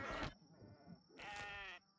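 Goats bleating in the Kenshi video game: two separate quivering bleats, each under a second, close and clear against a quiet background with a faint steady tone.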